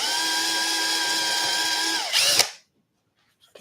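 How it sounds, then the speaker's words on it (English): A power drill runs steadily at constant speed while building an RC plane, then pitches up briefly and stops, followed by silence and a faint clatter at the end. "I have to drill this and put one"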